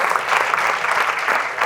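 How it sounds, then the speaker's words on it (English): A loud, close round of applause from an audience at a business talk, honouring a doctor, with dense overlapping claps rolling steadily for under two seconds. "I want round of applause for the doctor."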